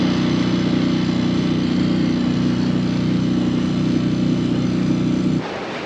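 A dinghy outboard motor running steadily as the boat heads toward a dinghy dock off Maui, a loud, even drone close by that cuts off abruptly near the end.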